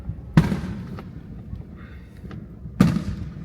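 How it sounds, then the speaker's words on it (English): Two booming fireworks bursts at a crowded outdoor evening show, each a sharp loud blast with a rolling tail, spaced a couple of seconds apart over steady crowd murmur. "That's the fireworks show"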